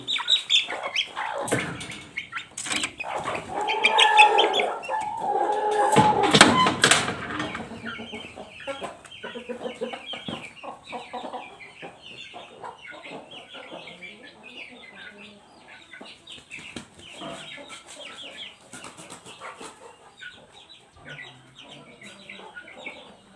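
Red junglefowl chicks and young birds cluck and peep close by, a busy overlapping chatter loudest early on and tapering to softer, steady calls.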